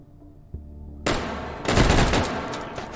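An automated turret in the VR shooter H3VR firing at the player, a sudden loud burst of rapid gunfire that breaks into a continuous roaring volley, close and harsh, with no talking.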